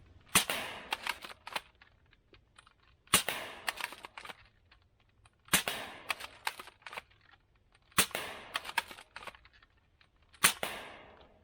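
A foam blaster shoots AF Pro darts at a target 20 feet away in bursts of sharp, snappy shots with short mechanical clatter. Five separate bursts come at roughly even intervals, with quiet gaps between them.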